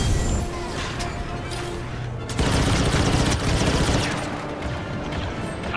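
A tank shelling the player in Star Wars Battlefront 2, heavy booming blasts and gunfire erupting midway through loud battlefield noise, with people talking.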